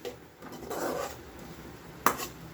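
A spoon stirring rice masala around a pan, giving soft rubbing and scraping strokes with a sharper knock of utensil against metal toward the end, close up and without talk.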